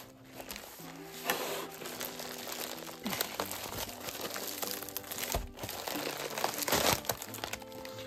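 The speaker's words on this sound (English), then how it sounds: "I'm going to need some scissors to get into this one." Crinkly plastic packaging on a craft kit crackles and rustles continuously for several seconds, close and fairly quiet, as it is handled and cut open with scissors.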